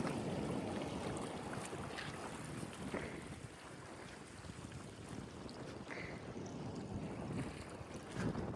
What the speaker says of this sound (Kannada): ಗಾಳಿ ಅಂತೂ ಸಿಕ್ಕಾಪಟ್ಟೆ ಇತ್ತು